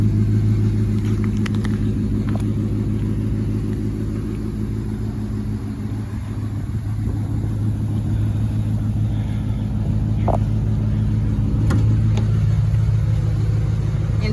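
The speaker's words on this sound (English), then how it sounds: "It's got a little cat back exhaust on there." A 2009 Ram 1500 four-by-four pickup with a cat-back exhaust idles with a steady, deep, loud rumble that holds even and close throughout, with no talking.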